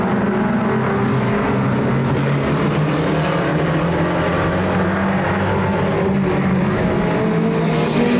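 SOMA modified race cars roar around Flamboro Speedway, a loud, steady wall of engine noise from several cars at once that holds for the whole stretch without pause.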